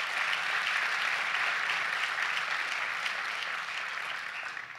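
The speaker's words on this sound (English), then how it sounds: "Let's give her a round of applause." A large audience gives sustained applause during a governor's speech, a steady, even roar of clapping that continues throughout and eases only slightly toward the end.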